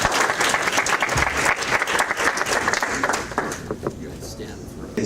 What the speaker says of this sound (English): Let's give these guys some applause